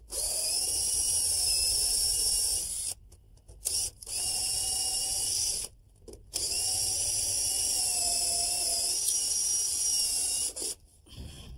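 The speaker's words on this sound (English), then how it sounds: "I want to drill down about 3 inches from the top, holding the drill on an angle" A power drill bores an angled pilot hole through a deck ledger into the sill for a lag bolt, a steady close whine in three long runs broken by short pauses.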